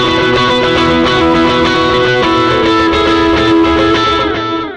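An electric guitar played through a Mooer preamp with its drive switched on rings out in sustained overdriven chords, loud and dense and heard alone, fading slightly at the end.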